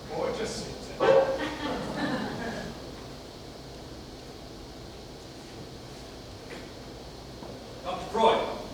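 A dog barks and yips indoors, a few short barks near the start and again near the end, with people talking around it.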